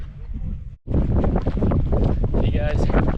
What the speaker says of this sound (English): It's getting windy, cold.